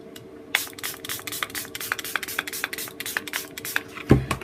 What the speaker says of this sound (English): Spray again with water.